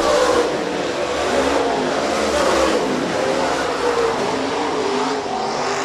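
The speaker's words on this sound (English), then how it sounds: "Down the back straightaway for the final time here in your final USMTS modified heat race of the night" USMTS modified race cars on the final lap of a heat race at a dirt speedway, a continuous loud roar of several engines blending together as the pack thunders down the back straight.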